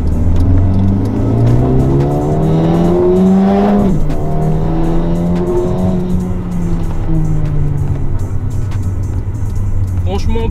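From inside the cabin, a Mercedes-AMG A35 sedan engine drones and rises steadily through the gears, loud and continuous, with someone talking over it.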